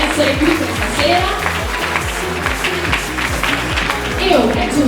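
Audience applause for sponsors at the Miss Città Murata beauty pageant selection in Castelfranco Veneto, dense steady clapping from a crowd, loud and close, with music and voices running underneath.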